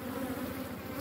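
Local honeybees hum steadily at a hive frame inside a hive box, a dense, continuous close-up buzz with no pauses.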